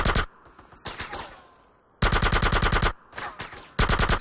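Automatic gunfire in Grand Theft Auto: San Andreas on Xbox, fast even bursts of rounds. Long strings of sharp shots are split by short gaps, then a last burst closes it.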